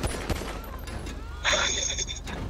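Gunfire in the Grand Theft Auto video game crackles in quick sharp bursts, moderately loud, with a denser burst of shots about halfway through.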